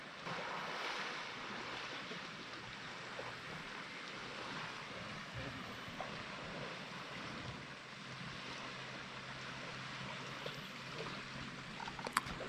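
Ocean waves wash against the shore at Penang National Park, a soft steady surf hiss with light wind noise, faint and continuous.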